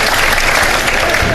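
An audience breaks into loud, dense applause to welcome Junaid Jamshed on a live Ramadan iftar TV show, a continuous roar of many clapping hands.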